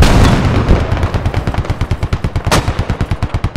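Heavy helicopter cannon and mortar fire in the war game Squad, heard as a fast, regular burst of loud booming shots with a sharper blast near the middle, continuing steadily without talk.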